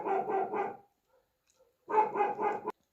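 A young dog at a village home in the mountains barks in two quick bursts of three close, loud barks each, with a short silence between the bursts.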